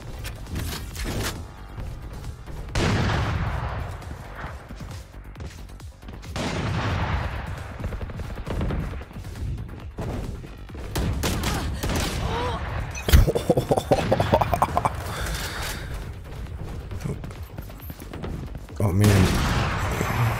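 Video game gunfire comes in bursts of loud shots and booming impacts, some rapid like a fusillade, with talking mixed in between volleys.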